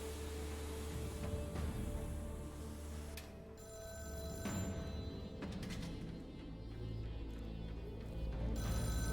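A telephone rings in the horror game Deep Sleep Labyrinth of the Forsaken, a repeated bell-like trill sounding clearly over a steady, noisy ambient drone.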